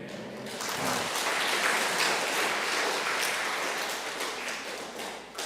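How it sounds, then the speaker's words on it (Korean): A church congregation applauds in a dense, sustained wash of clapping that swells, holds for several seconds and slowly tapers off, with no speech over it. "이렇게 막 박수도 쳐주시고"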